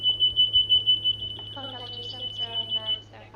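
Rapid high-pitched beeping of an inner marker beacon in a flight simulator, steady and continuous through the clip under a constant low hum, with a person talking over the later part.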